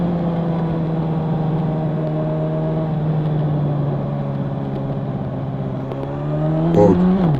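A Honda CB1000R Black Edition motorcycle cruises on a city road, its engine exhaust a steady, close, throbbing hum that swells slightly near the end as the revs change.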